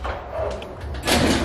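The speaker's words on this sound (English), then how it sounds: "The door." A door closes with one abrupt, fairly loud thud near the end, after a stretch of low indoor background hum.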